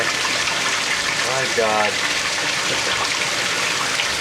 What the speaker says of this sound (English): Now this is a warm rinse, so look at that fucking water chutes in there.